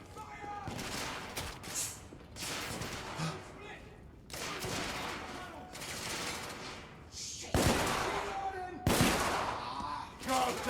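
Rapid gunfire in The Order: 1886, dense volleys and bursts of shots crackling almost continuously, with sharper louder reports near the end and voices shouting over the shooting.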